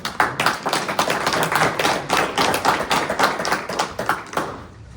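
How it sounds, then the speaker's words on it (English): A crowd applauds steadily at a Linden, Michigan city council meeting, dense rapid clapping throughout, loud and sustained before tapering slightly at the end. "let's give them a round of applause"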